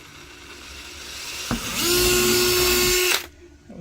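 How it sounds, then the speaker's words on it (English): A power drill bores out a hole in an AMS Lite dry box, starting with a brief bite, then a steady whining run of about a second and a half at close range before cutting off. "Then I'm going to drill that out."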